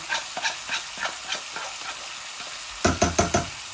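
Fish roe fries with cabbage in a pan, giving a bright, steady sizzle punctuated by rhythmic stirring scrapes that grow louder and quicker near the end.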